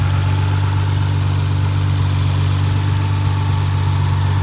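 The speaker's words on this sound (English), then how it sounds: "So here is the twin turbo V6 engine." A 2010 Nissan GT-R's twin-turbo V6 with Switzer upgrades idles steadily, a loud, close, even low hum with no variation in rhythm.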